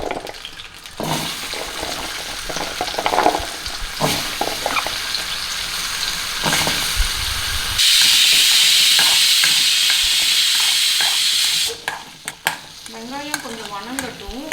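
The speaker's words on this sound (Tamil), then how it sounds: "வடச்சட்டியில் எண்ணெய் போட்டுக்கோங்க." Shallots frying in oil in a kadai give a loud, steady sizzle that builds midway and holds for several seconds. Softer stirring and scraping come before it, and the sizzle fades near the end.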